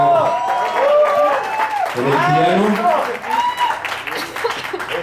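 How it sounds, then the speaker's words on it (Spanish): Audience applause for Miguel after an improvised piece at a live acoustic concert at the Foro del Tejedor, steady clapping running beneath a voice that talks over it. "vamos a dar un fuerte aplauso a Miguel"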